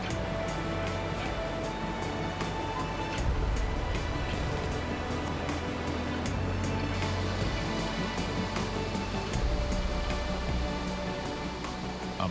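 Angel Falls, the world's highest waterfall in the Guiana Highlands, plunging 979 meters over sheer cliffs, heard as a steady, dense roar of falling water that holds an even level throughout.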